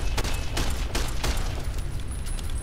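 Several gunshots from a weapon in Fallout: New Vegas crack out in an uneven rhythm, loud and close, each burst trailing into a short echo over a low rumbling background.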